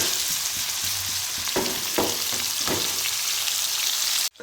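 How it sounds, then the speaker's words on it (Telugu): Paneer cubes fry in hot oil for a paneer biryani, giving a steady close sizzle with a few brief stirring scrapes before it suddenly cuts off near the end. "ఇంకా ఆయిల్ వేడకంగానే పన్నీర్ ముక్కలు వేసానండి."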